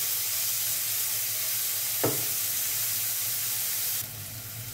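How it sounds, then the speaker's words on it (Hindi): Masala frying in hot oil toward golden brown, a dense continuous sizzle with one brief scrape of a spoon partway through, the hiss dropping a little in level near the end. "अब हम इसमें ये मसाला फ्राई करेंगे गोल्डन ब्राउन होने तक।"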